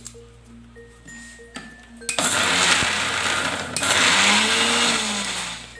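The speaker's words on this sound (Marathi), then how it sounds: "हे मिक्सरला फिरून घेते" A mixer grinder whirs loudly as it blends garlic, ginger and green chillies, starting after a couple of seconds of quiet kitchen clatter and running as a steady close grinding roar with a brief dip in the middle.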